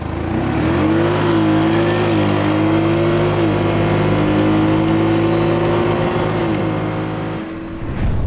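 ATVs tear off a race start in high-range two-wheel drive, a Yamaha Grizzly, Honda Rubicon or Can-Am Outlander among them. A loud, close engine revs and climbs in pitch, holds a sustained roar, then eases off near the end.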